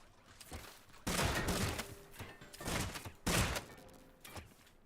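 Spud shotgun blasts against tape bots in the Scrap Mechanic survival game, a few sharp, fairly faint bursting shots spaced a second or two apart amid low background noise.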